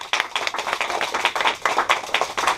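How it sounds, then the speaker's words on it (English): An audience claps steadily, a dense run of many hands that stays close and loud from start to finish, with no talking. "We need more claps than that."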